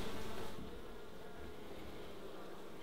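Dense, continuous buzzing of many honeybees close by at a hive, a steady droning hum with no talking.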